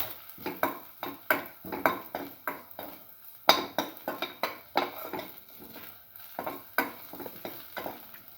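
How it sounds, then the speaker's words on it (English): Red chili and curry leaves are sautéed in a pan with a spatula, rhythmic scraping and clinking strokes repeating about twice a second over a faint sizzle, close and fairly quiet. "Thoroughly saute it. Keep on sauteing."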